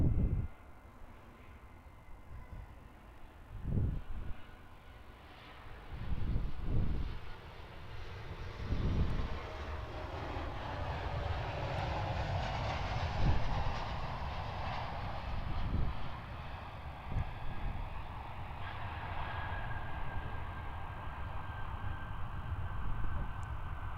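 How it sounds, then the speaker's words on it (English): A Qantas Boeing 737-800 comes in to land at Perth Airport, a broad jet roar rising and sweeping past at moderate distance with rumbling low end, then a long steady engine wash that slowly fades. "Next arrival is a Qantas Boeing 737-800 coming in from Perth as Qantas Flight 937."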